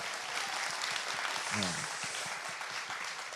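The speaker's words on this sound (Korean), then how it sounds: "박수 한번 주세요" A studio audience on a Korean talk show breaks into steady, moderately distant applause that carries on for several seconds.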